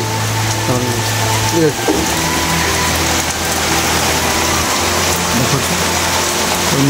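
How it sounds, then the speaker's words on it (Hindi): Heavy rain pours down on a village in a steady, loud wash of noise, with faint mechanical and background sounds beneath the downpour. "बहुत जोर से वर्षा हो मैंने खरा बाहरी वर्षा हो"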